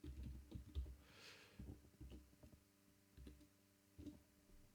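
Soft keystrokes on a computer keyboard, a few quick, quiet clusters of taps with short gaps between them, close and low in level.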